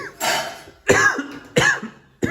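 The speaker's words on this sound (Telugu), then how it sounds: "ఘాటు వచ్చి దగ్గు వస్తుంది" Several sharp, close coughs come in quick succession from a person affected by pungent fumes from home cooking, each burst loud and separated by brief pauses, with no talking.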